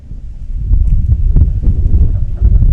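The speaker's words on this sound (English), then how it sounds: "Wind starts to gust around again." Wind gusting across an open outdoor baseball field during a tournament game, a loud, steady low rumble of buffeting against the microphone with rising surges, no other sounds standing out.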